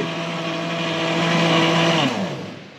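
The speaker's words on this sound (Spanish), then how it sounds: "en esa batidora nueva" A new electric blender whirs steadily with a high, buzzing motor tone while blending food, rising slightly before winding down near the end.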